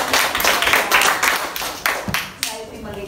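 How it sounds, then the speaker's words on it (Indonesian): Short burst of classroom clapping from pupils praising a classmate's answer, brisk uneven claps close by, mixed with children's and a teacher's voices. "Tepuk tangan untuk"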